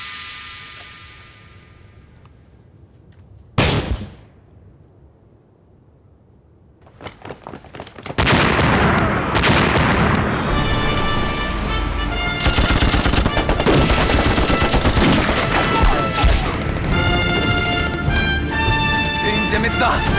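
Gunfire in a wartime battle scene from a Chinese war drama: after a quiet, tense opening, one sharp loud shot rings out, then scattered shots build into dense, continuous machine-gun bursts that stay loud and close to the end.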